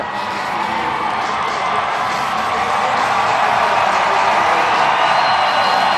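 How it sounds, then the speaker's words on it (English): Hockey arena crowd roaring after a fight between two goaltenders, a dense, steady wall of cheering and shouting that holds loud and continuous throughout. "And the crowd still roaring."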